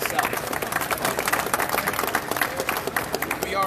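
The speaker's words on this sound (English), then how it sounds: "I think we all owe Keith a round of applause here for getting this thing going" Applause rises from a banquet crowd at the 2018 Mid West Pro Mod Series drag racing awards, a dense, steady patter of many hands clapping that fills the room with some crowd noise mixed in.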